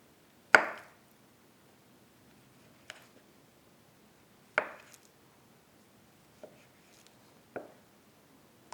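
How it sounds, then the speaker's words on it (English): A knife slicing thin pieces of bologna sausage on a board: a handful of separate crisp cuts, each a short sharp tap on the surface, spaced a second or two apart and heard close up in a quiet kitchen. "And you see how thin I slice this."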